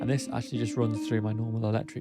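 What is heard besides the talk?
No everyday noise stands out behind the speech.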